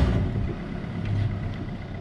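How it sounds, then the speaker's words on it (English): Small boat engine idling just after being started, a low steady rumble close by, brief and without talk. "start the engine."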